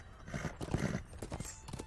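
Horse hooves clip-clop at a slow pace in the online game Lord of the Rings Online during its fall festival. The hoofbeats are soft and steady, with a faint whinny-like tone and no voices over them.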